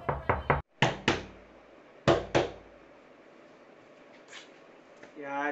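Knuckles rap on a closed door in quick bursts, a fast triple knock then two more sets of firm knocks, close and loud, followed by a quiet room and a faint shuffle.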